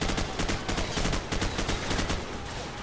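Dense, continuous automatic gunfire from the video game Call of Duty 4: Modern Warfare, loud overlapping bursts with no pauses or voices.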